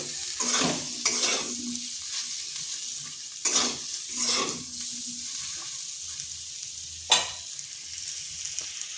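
Okra fries in a pan over slow heat without water, a steady close sizzle broken by repeated scraping stirs of a spatula and one sharp clack near the end.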